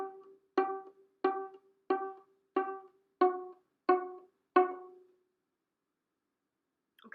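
String instrument played pizzicato on the Jingle Bells melody, seven evenly spaced plucked notes ringing close and clear, then silence.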